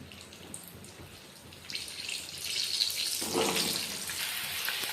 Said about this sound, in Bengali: তেল গরম হয়ে গেছে, আলুগুলো দিয়ে দিচ্ছি।